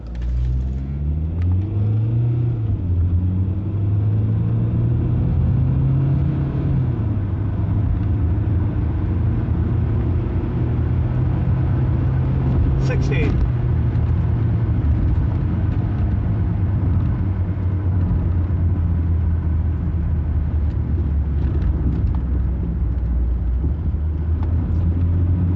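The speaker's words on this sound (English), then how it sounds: "This is our 0 to 60 on a longer stretch of road." Rover 75 Connoisseur SE CDTI diesel car accelerating hard from standstill to 60 on a longer stretch of road, a loud steady engine drone climbing through the gears, with a brief gear-change dip midway and no talking.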